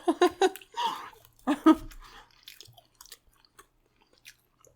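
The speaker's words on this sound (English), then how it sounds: "Okay, I took a bite of the pretzel crust." Bites and chewing of a Little Caesar's pretzel crust pizza, a few close, crunchy mouth sounds and breaths early on, then fading to faint, sparse chewing.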